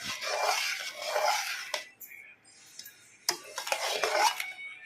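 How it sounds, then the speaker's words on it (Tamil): A spoon scrapes and stirs thickened milk and sugar for paalkova in a pan in close, intermittent rasping strokes, with sharp metallic clinks between bursts and a short quiet pause in the middle. "ஒரு 200 கிராம் வந்து சர்க்கரை போட்டுக்கலாம். போட்டு நல்லா கிளறி விட்டுட்டே இருக்கணும்."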